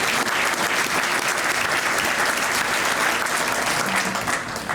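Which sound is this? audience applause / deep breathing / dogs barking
audience applause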